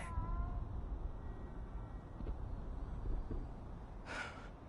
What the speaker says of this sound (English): That know. cat is so cute.